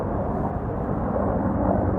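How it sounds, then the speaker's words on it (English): Army helicopters passing overhead, a loud continuous low rumbling roar with no speech. "There's one there, one Army helicopter, two Army helicopters,"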